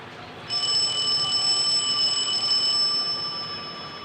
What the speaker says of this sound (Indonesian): Eta suara HP di mana?